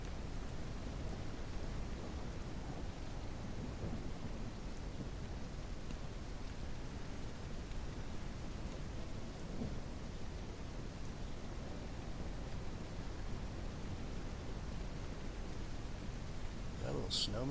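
Steady rain pours in Ranch Simulator, a dense, even hiss that holds throughout with a soft rumble underneath and a few brief brighter crackles near the end, and voices murmur faintly beneath it.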